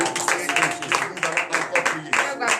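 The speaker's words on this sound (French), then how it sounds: "Donnez l'acclamation au Seigneur Jésus." A congregation at a morning prayer service in Comè, Benin, claps in praise. The loud, rhythmic claps come in steady grouped bursts, with voices calling out underneath.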